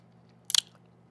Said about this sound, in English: I could barely even break them with my teeth when I tried to bite into this